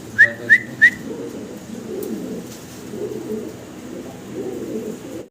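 Young pigeons, including almond and tan-coloured birds, give three quick, sharp whistle-like calls at the start, followed by a quieter, rolling cooing murmur that pulses on for several seconds, fairly near and without speech.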